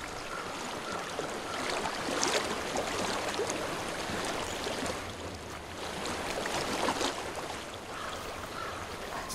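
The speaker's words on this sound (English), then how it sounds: "I hear water. Go to it." Steady broadband rush of a flowing stream in Hellblade: Senua's Sacrifice, continuous and fairly close, swelling slightly in two broader surges with a soft watery hiss throughout and no voices.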